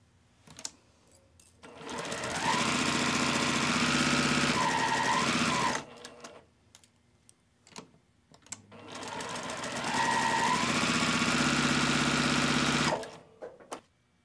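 Two long, steady bursts from a close sewing machine chain piecing quilt block pieces, separated by a short pause, with light handling clicks around them.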